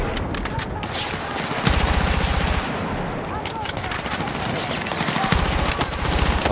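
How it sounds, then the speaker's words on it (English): Sustained hip-fire automatic gunfire in Battlefield 6, a loud continuous stream of rapid shots with heavy low-end pulses in several stretches, no talk over it. "This game does hip firing very well."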